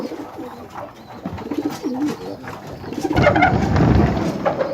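Pigeons, including young birds, coo in low, repeated throaty calls close by in a loft, overlapping with rustling and fluttering that swells in the second half.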